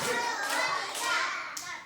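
Children clapping hands in a counting clap game, a few soft quick claps with light thumps, fairly faint and close, amid a busy background of young voices.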